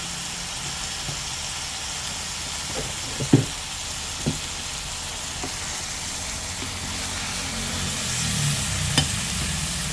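Crispy fried catfish with long beans and chili paste is stir-fried in a pan. A steady sizzle runs throughout, with a few sharp clanks of the utensil against the pan.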